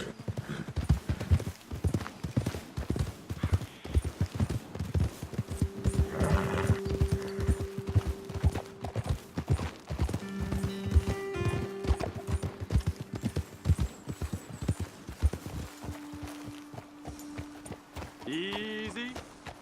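Horses' hooves clip-clop steadily in Red Dead Redemption 2, a steady rhythmic gait running the whole way through beneath tonal game sounds, with a brief whinny-like cry near the end.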